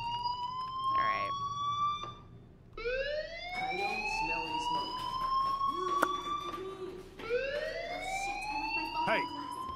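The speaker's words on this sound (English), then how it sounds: "Hey, do you hear that fire alarm?" A fire alarm in the video game Life is Strange Remastered sounds in repeated rising electronic wails with pauses between them, loud and nearby, while voices talk intermittently over it.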